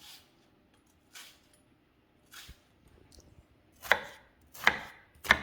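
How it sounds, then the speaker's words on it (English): An onion is chopped with a knife on a cutting board in a quiet kitchen, with six sharp, separate chops that start sparse and come faster and louder toward the end. "Chop the onion."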